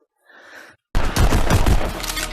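Pistols fire in the VR shooter Pistol Whip: after a faint lead-in and a brief silence, a loud, dense volley of rapid shots erupts and keeps going.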